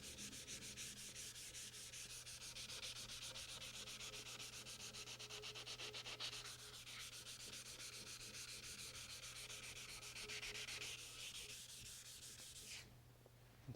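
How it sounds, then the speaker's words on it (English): Hand sanding across the flat cast-iron table of a Unisaw table saw, a steady close scratchy rub that runs continuously and evenly throughout with no talking. "you want to sand right up to the edge using the flat of your hand and your fingers"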